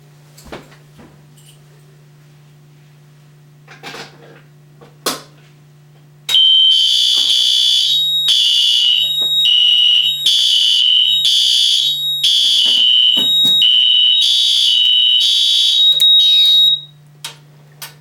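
After a low hum and a few clicks, a FireLite MP-12/24 fire alarm control panel sounds a loud, piercing electronic alarm tone that pulses steadily for about ten seconds before cutting off.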